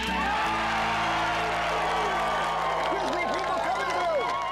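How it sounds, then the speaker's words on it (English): A large crowd of family and construction workers at a home build site cheers and whoops loudly and continuously, with clapping and shouting voices blending into a dense, sustained roar. "We were all cheering and clapping"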